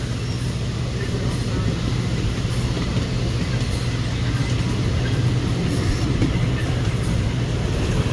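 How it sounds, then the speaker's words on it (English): Amusement park train ride at Knoebels, a continuous low rumble of the moving train with rolling wheel and track noise that stays steady throughout. "just time to enjoy a nice ride on the train"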